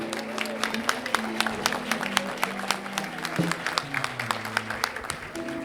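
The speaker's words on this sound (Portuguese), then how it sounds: "Você pode aplaudir bem forte ao Senhor" A church congregation applauds before the altar, with many distinct hand claps in a brisk, uneven rhythm. Low sustained tones, likely organ or keyboard, play beneath the clapping.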